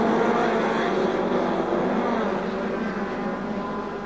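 1930s Mercedes and Auto Union racing cars at the Nürburgring produce a dense, sustained engine roar from several cars at once, steady and fairly loud, fading slightly toward the end.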